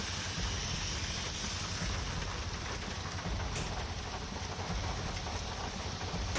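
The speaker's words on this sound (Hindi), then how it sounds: "जहां पर पिछले कुछ देर से तेज झमाझम बारिश हो रही है।" Heavy pre-monsoon rain pouring down on Talkatora Road in central Delhi, a dense, steady hiss of downpour with no voices, constant and fairly distant in tone.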